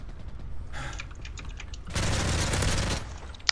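A burst of rapid gunfire in Call of Duty: Modern Warfare 3, with scattered shots followed by a dense, sustained volley lasting about a second, heard close and loud.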